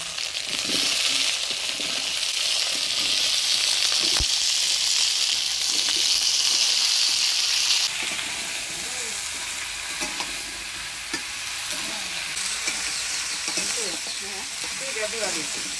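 Winter vegetables frying with cumin and ginger paste in a pan, a dense loud sizzle that eases slightly partway through, broken by scraping strokes and knocks as the mixture is stirred.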